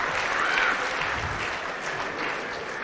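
An audience at the 2021 US Open Pool Championship quarter final applauds a banked shot, a short, full burst of clapping lasting about three seconds at steady volume.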